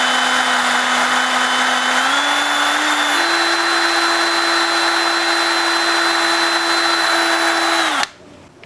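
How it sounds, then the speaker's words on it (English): A power drill whines steadily and close up while boring a 1/8 inch hole in a Euro-style rear fog light on a car; its pitch steps up slightly, then stops abruptly after about eight seconds. "This is where you're going to want to drill your 1/8 inch hole."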